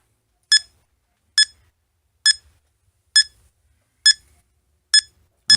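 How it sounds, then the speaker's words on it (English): A WiFi access point locator emits seven short, evenly spaced electronic beeps at a steady rhythm, clear and alone against near silence. "As we get closer to it, the beeps increase."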